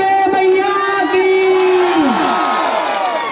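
A crowd at a live Durga Maiya devotional music show in Korba shouts a jaikara. One loud, drawn-out chanted cry slides downward in pitch over the mass of voices.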